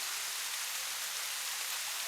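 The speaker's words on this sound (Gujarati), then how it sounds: "વરસાદ ધીમો ધીમો ચાલુ થઈ ગયો છે" Light rain falls in the evening as monsoon showers begin, a steady, even hiss of drops spread evenly through the clip with no voices.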